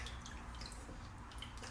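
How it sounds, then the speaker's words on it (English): Water sloshes and drips while flour dough is massaged and washed to rinse out the starch for seitan, a faint continuous wet patter with no voices. "what you want to do is wash out the starch"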